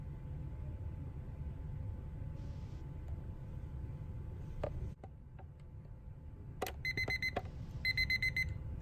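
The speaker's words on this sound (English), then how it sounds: "so the timer's up" A timer alarm goes off near the end, sharp repeating electronic beeps in quick bursts following a few clicks over a steady low background hum.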